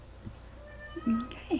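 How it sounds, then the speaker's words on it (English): A pet cat meows close by indoors, a couple of short rising calls near the end, with a person briefly speaking over a quiet room. "sorry about my cat"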